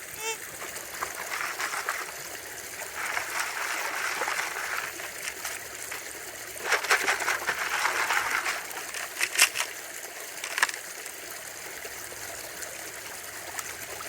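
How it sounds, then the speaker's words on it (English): Crushed rock is panned for gold in water, making soft trickling and splashing as the pan swirls, with louder sloshes in the middle and a faint steady background. "Alright, I'm going to pan to see what this stuff is."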